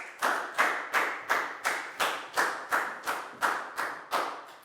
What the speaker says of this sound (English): a big round of applause for Prau